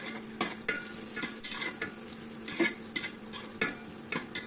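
Chopped onion fries in soybean oil in a pan with a steady high sizzle, while a utensil stirs and taps against the metal in short, irregular knocks close by, with no voices.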